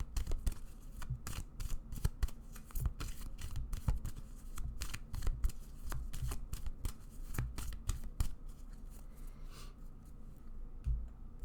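Tarot cards being shuffled during a pick-a-card reading: quiet, close, papery riffles and slaps in rapid repeated bursts with brief pauses, and no talking.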